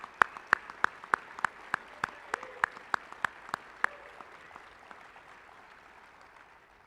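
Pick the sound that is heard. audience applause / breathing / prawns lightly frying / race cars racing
audience applause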